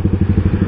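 Motorcycle with its aftermarket exhaust open and the dB killer removed, idling with a fast, loud, even pulsing burble close up.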